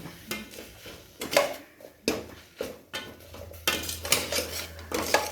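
Stirring pepper powder into mint rice in a pan, with a series of close metal spoon scrapes and clinks against the pan in uneven bursts, without talk.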